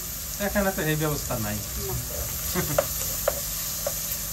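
Shrimp and onion fry in a pan on a home stove with a steady sizzle, broken by a few sharp clinks of stirring, while a voice talks over the start.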